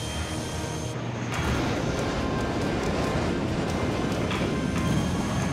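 A MiG-17 jet roars into a takeoff at an airshow, a loud broadband engine blast that swells and holds steady throughout, heard alone without speech.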